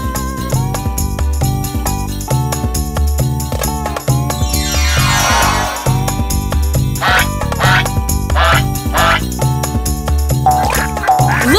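Cartoon duck and ducklings quacking over a loud, busy children's song backing, with a sweeping swoosh effect and repeated bright quack calls standing out near the end.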